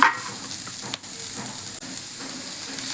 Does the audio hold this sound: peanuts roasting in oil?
yes